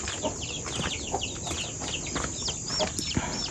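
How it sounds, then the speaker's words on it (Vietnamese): Chickens cluck and chicks peep continuously near a house, with short chirps and clucks overlapping at close range against a steady background. "có mấy con gà con này"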